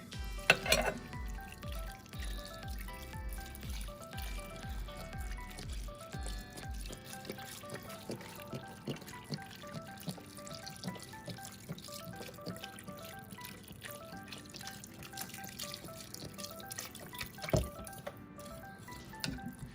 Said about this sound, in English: Now, I'm gonna use low sodium chicken broth. I'm probably gonna use the whole thing.